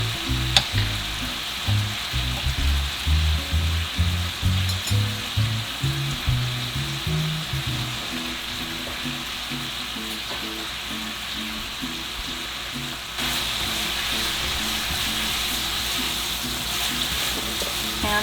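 Sauce with brown sugar simmering and reducing in a pan beside a beef tenderloin roast, a constant close sizzle and bubbling with rhythmic stirring scrapes early on, then an even, unbroken fry.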